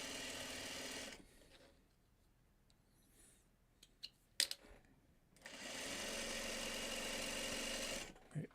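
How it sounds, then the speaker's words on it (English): A sewing machine stitching a quilt block runs steadily for about a second, stops through a quiet stretch with a few clicks and handling knocks, then starts again with a sustained, even whir. "so you can actually see the sewing machine"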